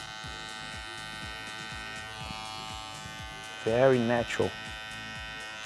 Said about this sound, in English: here I'm gonna use my trimmer